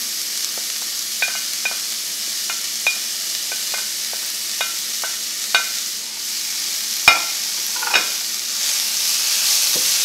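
Green beans sautéing in a pan for Kerala-style thoran, a steady sizzle with repeated scrapes and clicks of stirring, close and alone with no talk.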